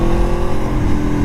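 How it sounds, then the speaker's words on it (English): A 2017 Aprilia Tuono Factory motorcycle engine runs loud and close with a steady harmonic drone, blipping through an automatic downshift while threading heavy town traffic. "So, nice auto blip there."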